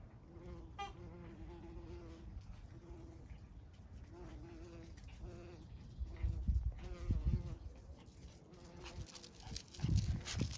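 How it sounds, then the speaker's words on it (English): Bees buzz outdoors on a hot summer morning, a steady insect drone with faint hums, joined by louder low rustling and handling noises near the end. "Trying to have a moment with the bees, Dolly."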